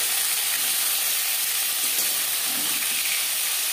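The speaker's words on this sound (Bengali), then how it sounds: "মাছের মাথা একটা সাইড ভাজা হয়ে গেলে অপর সাইডটা উল্টে দেব।" An aar fish head frying in a pan, giving a loud, dense, continuous sizzle and hiss that fills the whole stretch without pause, close up and with no talking.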